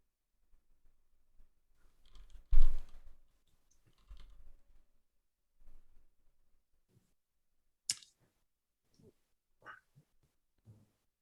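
Computer mouse clicks come sparse and quiet, scattered single clicks with gaps between, heard close up while someone browses web resources at a desk.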